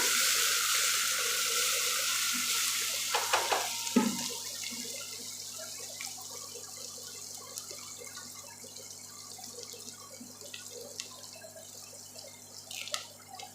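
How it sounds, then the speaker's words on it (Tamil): Chopped onions frying in oil for white kuska, a faint crackling sizzle with sporadic pops and a few louder clicks, fading slightly over time, no voices. "கட் பண்ணியிருக்கிற வெங்காயம் சேர்த்துக்கலாம். வெங்காயம் நல்லா வணங்கட்டும்."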